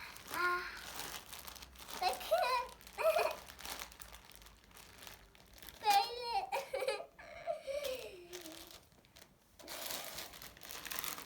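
A plastic package holding a squishy toy keychain is crinkled, torn open and cut, with bursts of close crinkling and rustling between pauses, while a voice talks and gives a short laugh.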